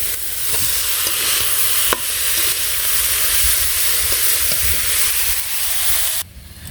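Chilies and carrots frying in a pan in a village kitchen, giving a loud, steady hiss and sizzle with occasional stirring clinks, before the sound cuts off abruptly near the end.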